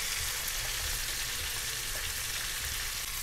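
Beans, carrot and radish fry in a pan with a steady, close, unbroken sizzle.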